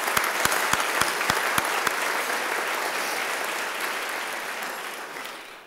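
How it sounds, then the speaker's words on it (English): A banquet audience at a business ethics awards ceremony gives the event sponsors a sustained round of applause, a dense wash of many hands clapping that fades slowly toward the end. "Let's give these sponsors a round of applause"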